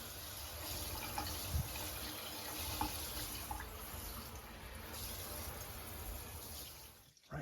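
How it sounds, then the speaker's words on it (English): Water runs steadily through a newly replaced walk-in shower drain in a soft, continuous rush, with a few faint clicks and knocks along the way. "Right, you can hear the water going through it."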